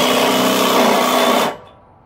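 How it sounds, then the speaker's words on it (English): DeWalt impact driver snugging a spindle bearing on a Kubota zero-turn mower, one loud, close, continuous burst of hammering whir that cuts off abruptly and leaves a faint ring. "So I'm just going to use a little DeWalt impact."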